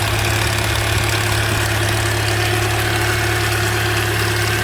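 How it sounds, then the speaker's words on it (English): A 2009 Toyota Corolla 1.8 engine idles with a rattle, steady and close, a constant low hum with a fine metallic chatter over it. "I don't know if you can hear the rattle from here, but I'll open the hood and let you listen."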